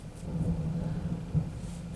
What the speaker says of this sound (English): Oh, can you hear the thunder?